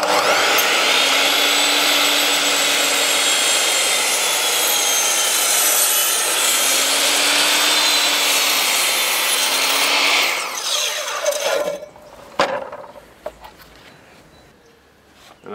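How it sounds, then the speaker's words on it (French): A Bosch GCM 12 miter saw cuts through wood with a loud, steady whining motor and rasping blade for about ten seconds, then spins down, followed by a few sharp clunks and quieter handling noises. "pouvoir donc couper en déplaçant notre scie pour faire la coupe en une seule fois"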